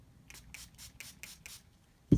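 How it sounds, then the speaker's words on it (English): Six evenly spaced short hissing bursts of water from a spray bottle, quiet and close, followed by a soft thump at the end. "6 sprays of water,"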